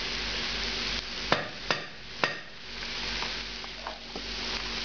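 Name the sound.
eggplant filling cooking down and sizzling in a hot pan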